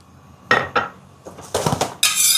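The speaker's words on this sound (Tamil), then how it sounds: "தோசைக்கல்லை வைப்போம், சூடாட்டும்." A metal dosa griddle is set down on a kitchen stove with a few sharp clanks and scrapes of metal on metal, then a short rattle, close and fairly loud, with no talking.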